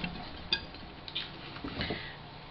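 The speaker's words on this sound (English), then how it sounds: "once we get this well combined, trying to get all the seasonings through all the flour" Flour and dry seasonings being stirred together in a bowl for Boston brown bread, giving soft scraping with a few light utensil clinks against the bowl, close and quiet, with no talking.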